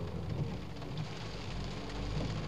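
Rain falling steadily around a car on a drive through Scotland, a dense continuous patter with a low rumble beneath, fairly faint and unbroken, no voices.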